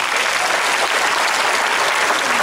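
Dense, continuous crowd applause at the final of a folk brass music festival in the village of Tsarevets near Svishtov, Bulgaria, loud and even throughout with no voices over it.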